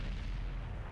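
Artillery fire in a tank battle game, a single deep, rumbling boom that fills the whole second, dense and low, heard alone without talk.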